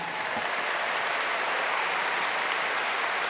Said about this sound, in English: can we please give a round of applause to Interim Superintendent